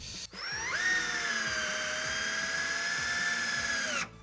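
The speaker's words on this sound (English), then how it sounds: "I've got my two screws drilled on this side." A power drill driving screws into wall studs while installing a Delta curved wall set, one steady high-pitched whine running about four seconds after a brief start, close and loud, then stopping abruptly.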